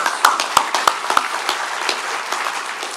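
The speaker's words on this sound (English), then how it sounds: "Let's give everybody another round of applause" Conference panel audience at Carnegie Mellon clapping after a healthcare forum, a thin scattering of individual claps with a few sharp close ones early, then a softer continuing patter fading toward the end.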